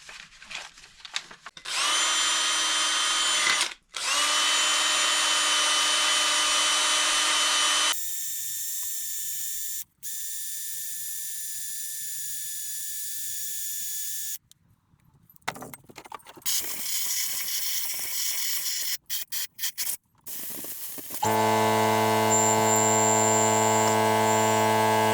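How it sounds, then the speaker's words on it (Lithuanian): A power tool works on an Audi Q7 during repairs. It gives steady high-pitched whirring and buzzing runs with abrupt starts and stops and pitch changes, close by and fairly loud, with brief metallic clicks between runs. "vis varžtelį prisiverža ant 9 Nm"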